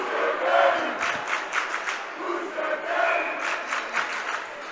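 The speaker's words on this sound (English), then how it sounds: "And there go the chants" A student section crowd chants at a boys varsity high school hockey game after a big hit, a dense roar with repeated rhythmic shouted bursts rising and falling throughout.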